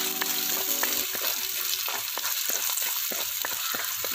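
Garlic, ginger and green chili sautéing in oil in a pan for Kerala fish molee, with a steady close sizzle and frequent sharp clicks of a spatula stirring against the pan.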